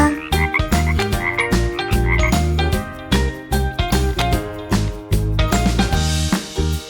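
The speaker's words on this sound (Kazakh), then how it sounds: "Бақа." Loud, close frog croaks in a rapid rhythmic series of deep, buzzing calls, repeating in bursts with short pauses.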